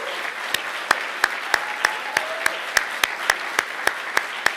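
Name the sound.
conference audience applause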